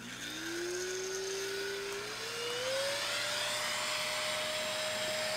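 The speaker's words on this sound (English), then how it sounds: "What I want you guys to pay attention to is how loud the vacuum is" A FruSun 7-in-1 pet grooming vacuum runs close by with a steady whirring motor whose whine climbs in pitch as it spins up, then holds a constant drone.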